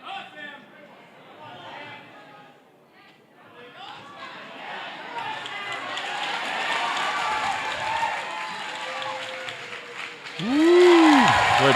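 Spectators at a bouldering competition cheer and applaud, the noise building gradually from scattered chatter into a dense roar of clapping and shouts, with a whistle-like shriek near the end.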